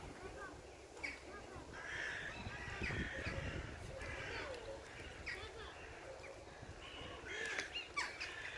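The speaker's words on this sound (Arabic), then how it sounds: "صوت العصافير سمعوا على صوت ما شاء الله." Birds call and chirp repeatedly outdoors, several bright calls overlapping over a soft background rumble.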